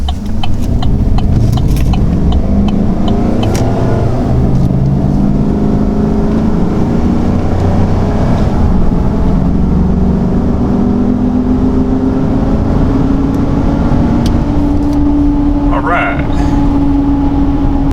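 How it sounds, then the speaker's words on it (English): A Chevrolet Silverado pickup engine roars and revs as it accelerates hard from 0 to 60 under aggressive throttle, pitch climbing through gears, loud and close with a steady rumble throughout. "those were some fairly aggressive, press downs on the throttle"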